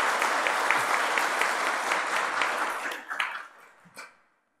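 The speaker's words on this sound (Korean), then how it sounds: "성가들을 박수 한번 보내겠습니다" A church congregation applauds its choir during a Sunday service, a dense even wash of clapping that thins after about three seconds into a few last claps and then stops.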